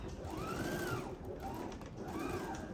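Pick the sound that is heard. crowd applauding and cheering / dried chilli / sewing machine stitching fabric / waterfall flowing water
sewing machine stitching fabric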